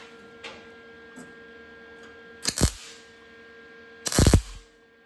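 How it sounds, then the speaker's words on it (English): Two short bursts of welding on a car patch panel, each a loud crackling hiss lasting under a second, separated by a quiet stretch with faint ticking and a steady low hum. "I'll weld this sucker in."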